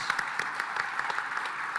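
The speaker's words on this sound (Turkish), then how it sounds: "Böyle güçlü bir alkış" An audience at the Webrazzi Summit 2023 technology conference gives a strong round of applause, a sustained, even clatter of many hands clapping without speech.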